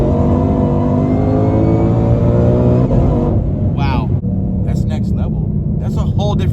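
A 2020 Shelby GT500 at a nine-second drag setup accelerates hard with a loud, dense engine roar that holds steady and then drops off into a lower rumble, with short voices breaking in near the end.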